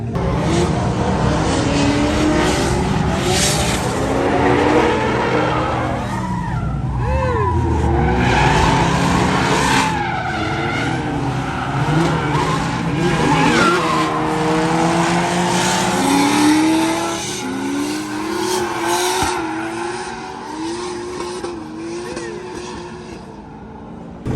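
A drift car slides around a curve at a drift event, engine roaring loud and continuous with rising and falling revs and tire squeal, heard from close up inside the car.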